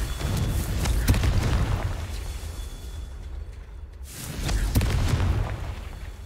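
Explosions from the Confringo spell in Hogwarts Legacy, with loud rumbling blasts filling the first few seconds, a brief lull, then another heavy burst near the end.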